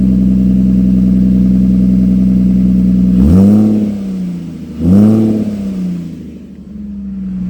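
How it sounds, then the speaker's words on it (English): A Ford car engine with an exhaust leak idles loudly after warming up, then revs twice in quick surges, each with a rough, popping exhaust rasp before settling back. "I let the engine warm up before I revved it for you all."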